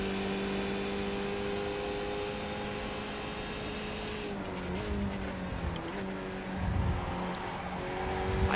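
A Skip Barber race car in iRacing at Okayama, its engine droning steadily with pitch shifts as the driver downshifts with throttle blips, a brief tire squeal near the end, no voices.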